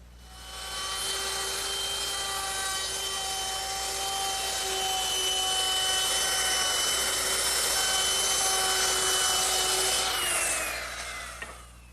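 A router fitted with a 1/4 inch roundover bit shapes the top edges of Adirondack chair seat slats, a loud, steady high whine running about ten seconds before spinning down.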